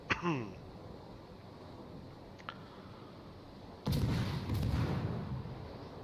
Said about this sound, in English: we're just going to keep putting shots into the stern of his ship where he's unsaturated